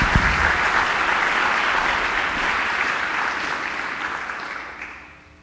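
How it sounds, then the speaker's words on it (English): Audience applause at an educational event, steady clapping from a room full of people that runs at an even level for several seconds before dying away, with no voices over it. "So please give a round of applause for Doug."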